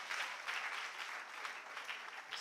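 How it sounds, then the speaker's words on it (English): An audience at a national girls' speech and debate championship claps steadily, a dense even patter of many hands at moderate distance, fairly faint and without any voices over it. "Put your hands together for yourself."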